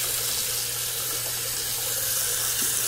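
A small splash of water poured into a shaving lather bowl, heard as a soft steady trickle running close by for a few seconds, no voices.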